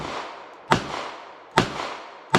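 Three sharp gunshots from a bobbed-hammer Charter Arms Undercover revolver firing jacketed hollow point rounds, spaced evenly about 0.8 seconds apart, each a loud close crack with a short ringing decay, no talk.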